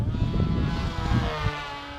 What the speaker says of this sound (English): There is a little bit of vibration in that motor.